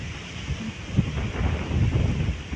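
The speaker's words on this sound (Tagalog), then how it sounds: "Kusog ang hangin." Strong wind from an approaching typhoon buffets the microphone in a steady, loud roar with gusty swells and low rumbling, no voices.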